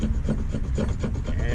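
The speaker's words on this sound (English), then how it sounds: "and scrape you some fat wood" A 90-degree knife spine scraping genuine Croatan National Forest fatwood, a steady rhythmic rasp of repeated close strokes, loud and continuous with no talking.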